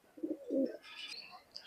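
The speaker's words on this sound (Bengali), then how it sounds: "ভিউয়ার্স এখানে এক পেয়ার প্রিন্স কামাগার কবুতর আছে" Pigeons, a pair of Prince Kamagar birds, give a couple of low, soft coos close by, followed by faint higher chirps and background noise.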